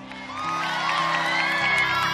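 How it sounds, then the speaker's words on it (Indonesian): An audience cheers and whoops at the MNC Channels 8th anniversary Battle Royale show. The loud crowd noise swells and holds steady over a sustained musical backing. "boleh kita berikan tepuk tangan sekali lagi untuk MNC Channels"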